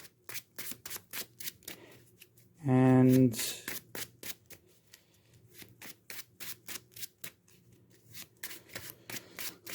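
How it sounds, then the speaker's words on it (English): A deck of Marvel Champions game cards is riffle-shuffled once with a loud fluttering burst, then repeatedly overhand-shuffled in a fast, steady series of soft slaps and snaps at close range, with a brief spoken word. "Shuffle this."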